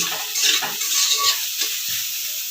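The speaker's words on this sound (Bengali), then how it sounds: "ভেজে নেব।" Soya chunks fry and get stirred in a pan for a Bengali soya chow snack, a steady close sizzle with scraping stirs running through, no voices.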